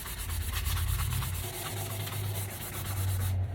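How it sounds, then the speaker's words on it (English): A 320 grit sanding block rubbed back and forth over a fan blade in steady, close strokes, making a continuous dry scraping rasp with no talk. "This is a 320 grit sanding block, and I'm going to sand it one way"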